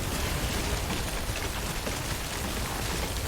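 Steady, dense rain from the video game Death Stranding pours evenly throughout, a loud, unbroken hiss of drops with no gaps.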